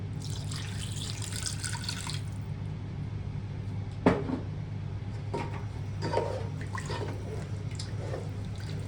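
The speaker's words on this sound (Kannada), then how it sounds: "ಈಗ ನಾವು ಪನ್ನೀರ್ ನೆನೆಸಿಟ್ಟಂಥ ನೀರುಂಟು," Water that paneer soaked in is poured into a frying masala for Hyderabadi paneer masala, giving a steady splashing pour over the first two seconds, then a few clinks and light kitchen knocks.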